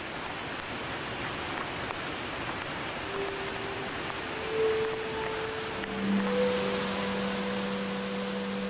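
A waterfall deep in a forest gorge roars as a steady, broadband rush of falling water, constant and fairly loud, with a faint tonal hum appearing partway through and no speech.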